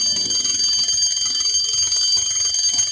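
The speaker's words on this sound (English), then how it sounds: "Suddenly, she heard the bell." A hospital alarm bell rings continuously, a loud, steady high-pitched ringing that fills the whole stretch with no pauses and no voices.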